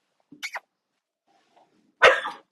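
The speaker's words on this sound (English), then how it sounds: "You're going to have my dog barking." A pet dog gives two short barks indoors with a pause between them, the second louder and closer.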